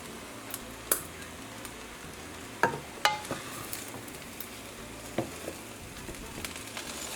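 Fried rice being stirred in a pan with sesame oil, Trinidad style, a steady soft sizzle under scattered scraping and clinking of a utensil against the pan, with a few sharper knocks.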